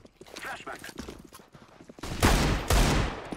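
Video game gunfire rings out during a match: light scattered shots, then two loud, close bursts near the end, with players' voices talking over the opening part.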